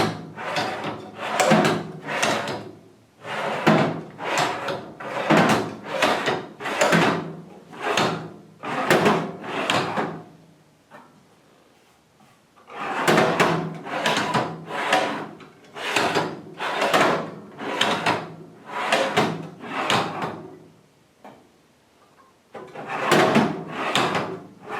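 Metal drawers on a Kennedy 3611 machinist tool box and a Kennedy 5150 mid chest, mounted on a roller cabinet, slide open and shut in quick repeated bursts, in two close, loud runs split by a short pause, with no talking.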